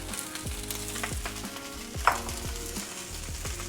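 Holy basil hits a hot pan with beef fried rice and is stirred in, a steady close sizzle with scraping stir strokes and one sharper clatter midway.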